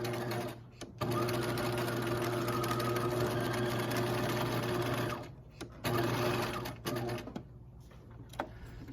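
Sewing machine stitching a seam on a romper, a loud, close, steady mechanical whir that runs almost continuously with a couple of short pauses and restarts.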